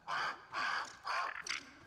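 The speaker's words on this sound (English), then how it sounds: "It is a bird." A big bird in the video game Grounded caws three times in a steady, evenly spaced rhythm, then gives a shorter, higher squawk, loud and clear with no voices.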